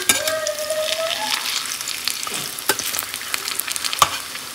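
Lentil fritters (bora) frying in hot oil over a low flame, a steady close sizzle with crackling pops and occasional sharp clicks as they are turned, no voices.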